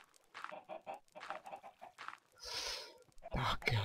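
Chickens clucking in Minecraft: a run of short, rhythmic clucks, then a burst of hissy noise and a louder flurry at the end, all fairly faint with no talk over it.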